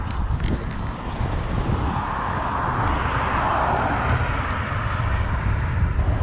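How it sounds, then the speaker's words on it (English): A yellow helicopter flies overhead near Charlottetown Harbour. It makes a steady, broad whooshing drone mixed with wind noise, fairly loud, with no voices. "And a helicopter, a yellow one."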